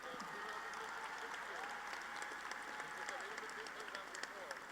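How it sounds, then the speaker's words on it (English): Faint, distant applause from a commencement audience honoring nursing master's graduates, a continuous soft wash of many hands clapping in a large hall, with a few louder claps standing out. "Ladies and gentlemen, a round of applause for the master's graduates from the School of Nursing."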